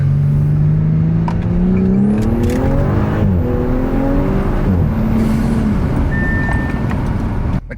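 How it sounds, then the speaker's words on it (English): An Audi S5 B9 fitted with a CTS cold air intake accelerates hard, its turbo spool rising with the engine note through a gear change, loud and close with no talk. "Listen how much louder you can hear this turbo spool."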